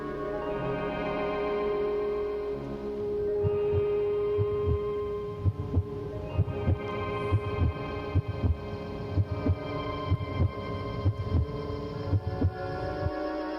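A steady heartbeat from a film soundtrack, with low thumping beats that grow in regular pulses under a droning sustained tone.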